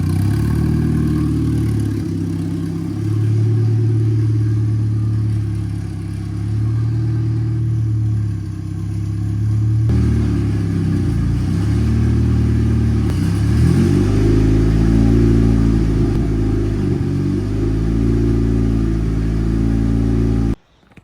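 A K-swapped Infiniti G35 engine idles close and loud on its first start, a steady rumble with small throttle blips and shifts in tone, running continuously for about twenty seconds.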